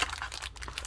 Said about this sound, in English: Let me get this back in the bag.